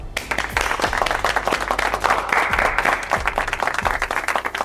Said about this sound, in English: Let us welcome her with a round of applause.